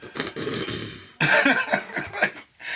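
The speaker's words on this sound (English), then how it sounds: "go ahead and clear your throat" A person clears their throat with rough, gravelly bursts, followed by a short pause and another throaty rasp, close and fairly loud.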